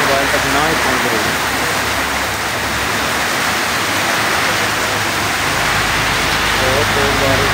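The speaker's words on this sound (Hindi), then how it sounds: "आप बारिश की कंडीशन चेक करें कितनी तेज़ बारिश और तेज़ हवा है।" Heavy, steady roar of rain with gusting wind, loud and continuous throughout, a dense wash of noise with no pauses.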